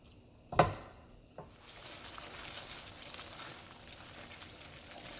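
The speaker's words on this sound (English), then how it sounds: "So I'm going to go ahead and mash and cook these." Beans are mashed and cooked in a pan, starting with a sharp clack and a softer knock, followed by a quiet, steady sizzle at close range.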